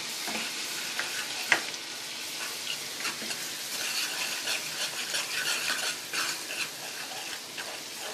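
Ginger and garlic fry in hot oil, giving a close, steady crackling sizzle stirred throughout, with a single metallic clink of a utensil against the pan.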